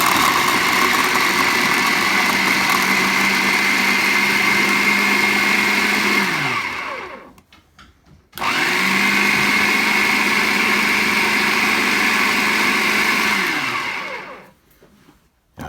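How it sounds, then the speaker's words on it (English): A food processor whirs loudly as it blends butter and flour into crumbs for quiche pastry, running steadily for about seven seconds, winding down, then starting again for another long run before slowing to a stop. "we just turn the food processor on and we just want to get the butter and the flour to go breadcrumb like"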